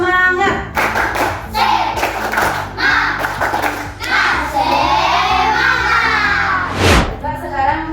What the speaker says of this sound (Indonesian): kita tepuk semangat dulu agar lebih semangat